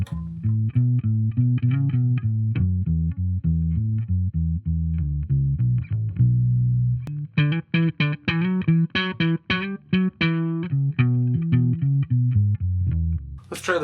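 An electric bass guitar is played through its middle pickup with fresh new strings, giving low sustained notes early on and then a quicker run of short plucked notes, clear and fairly loud with no talking.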